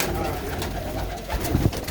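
Domestic racing pigeons in a village loft at Madhpur near Samrala, Ludhiana district, coo in steady overlapping low throaty rolls, close and continuous with no voices.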